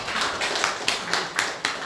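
Hands clap in a quick, fairly even rhythm at a church service welcome, a handful of sharp claps spaced about a quarter second apart, close by.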